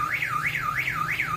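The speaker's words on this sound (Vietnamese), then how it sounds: "Mình bước vào cái vùng quan sát của camera này, lập tức nó sẽ báo động, nó còi hú lên như này." An anti-theft security camera's alarm siren wails close by, a loud electronic tone sweeping up and down in a rapid, regular cycle, four rises in quick succession with nothing else heard.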